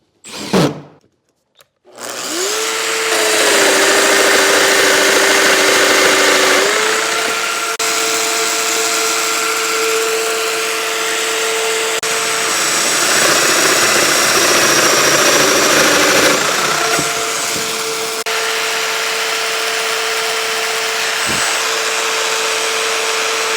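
A power tool runs steadily for about twenty seconds while drilling a small wooden side-table part held against a stop block, a loud continuous whine with slight shifts in pitch and load, after a brief knock at the start.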